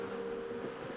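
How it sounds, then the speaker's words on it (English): Bees buzz from a hive that is under attack by robbers, a steady close swarm drone with a strong low hum holding throughout, no voices present. "With the hive under attack, the bees are likely to be more aggressive."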